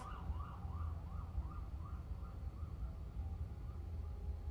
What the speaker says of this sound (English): Sorry about the sirens. I'm gonna let him pass.